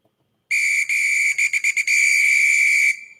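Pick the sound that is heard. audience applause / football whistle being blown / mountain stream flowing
football whistle being blown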